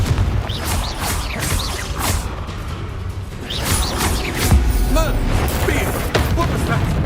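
Confringo spell explosions in the video game Hogwarts Legacy, several loud blasts and crashes in quick succession over a busy, rumbling battle din, with voices shouting over the noise.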